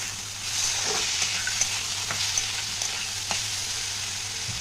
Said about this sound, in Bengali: তো বাদামটাও এর সঙ্গে একটু ভেজে নেব।